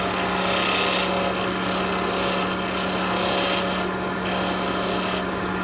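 A skew chisel takes a planing cut along a wooden skipping-rope handle on a lathe, giving a steady, continuous rubbing hiss over a constant hum from start to finish.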